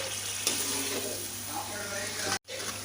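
Potatoes and peas fry in oil in a pan for aloo matar pulao, a loud, continuous sizzle and hiss close by, with brief stirring scrapes and a momentary dropout near the end.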